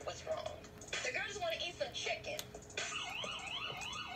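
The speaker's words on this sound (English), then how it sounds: "Oh, that's the ambulance." A distant siren wails in rising and falling sweeps, faint behind nearby background noise and scattered clicks.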